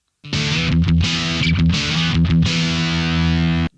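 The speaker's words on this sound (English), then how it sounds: "A little bit of distortion will give you some grit and crunch." Electric guitar played through a distortion effect, a thick, gritty sustained chord ringing loud and steady for over three seconds with a few brief rhythmic breaks, no voices.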